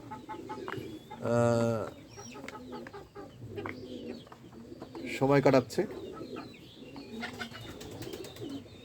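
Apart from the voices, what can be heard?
chickens, ducks and pigeons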